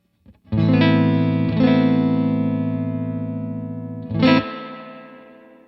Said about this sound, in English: But check out this reverb.